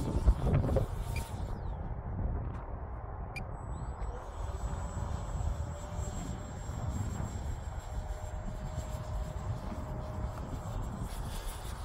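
HobbyKing Banana Hobby 50mm F-22 EDF RC jet flies in windy conditions, a thin high whine drifting steadily in the distance over heavy wind rumble.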